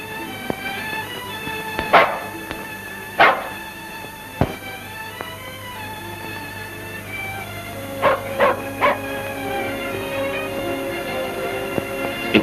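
A dog in a dubbed 1940 film barks in sharp, loud bursts, two early yaps, a lone snap, then a quick cluster of three, over a low steady background hum.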